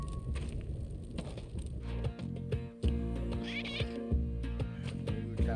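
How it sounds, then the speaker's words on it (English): A cat meows repeatedly and insistently, close by, heard over game music and sound effects from Spelunky, with a few drawn-out wailing cries. "There's a cat behind me"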